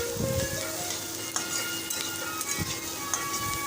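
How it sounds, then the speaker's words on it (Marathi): Onion and radish stir-fry in a pan for a radish bhaji, giving a continuous close sizzle marked by scattered clinks and scrapes from the stirring spoon. No voices are present. "कांदा मुळा ते सगळं आता एकदम आहे चांगलं मिक्स करून थोडं लाल गुलाबी होईपर्यंत ढवळत राहायचं आहे"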